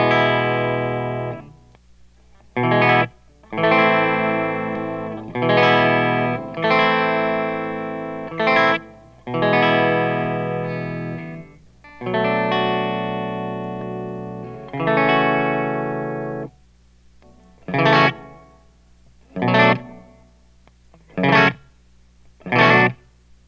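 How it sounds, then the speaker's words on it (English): Clean electric guitar played through a Line 6 M13 effects unit with reverb: a series of strummed chords and short stabs separated by pauses, each ringing out with a spacious tail, the last few hits shorter and choppier, no talking. "Reverb."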